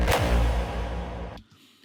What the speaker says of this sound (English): so I looked for like a hall kick actually